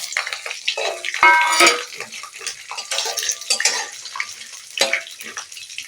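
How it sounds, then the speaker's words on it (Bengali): Mustard oil being poured into a hot wok, a close liquid splash and sizzle with clinks of metal utensils and brief watery bursts, uneven and loud in short surges. "আমি তেলটা ঢেলে দেবো কোঁড়ায়"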